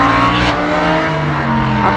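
Loud, close roar of F5000 racing cars on a circuit, a sustained multi-toned engine drone with slight pitch shifts as they pass during a classic car race.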